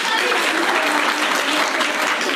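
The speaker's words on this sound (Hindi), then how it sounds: "तो एक तालियां जोर से होती है।" Schoolchildren applauding loudly at a government upper primary school event in Dehradun, a dense, steady clatter of many hands that fills the whole stretch without pause.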